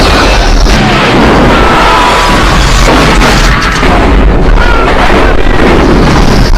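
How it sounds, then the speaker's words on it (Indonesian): Loud, continuous booming blasts of remote-detonated bombs in several buildings crowd together into a heavy, distorted roar of explosions, rumbling and crackling without pause. "menaruh peledak kendali jarak jauh di setiap bangunan untuk meledakkan mereka semua sekaligus"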